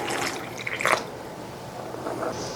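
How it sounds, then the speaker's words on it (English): Water poured into canning jars of pinto beans, a short splashing gush with drips, then quieter trickling and a small spill of liquid. "we'll add water to the ones that don't have enough liquid"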